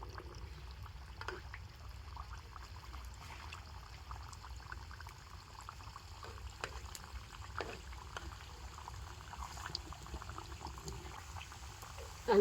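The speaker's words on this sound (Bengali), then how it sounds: "সেই তেলের মধ্যে কিন্তু মিষ্টিগুলো ভেজে নিতে হবে।" Sweets frying a few at a time in lightly heated oil, a faint, steady low bubbling and fizzing that continues evenly throughout.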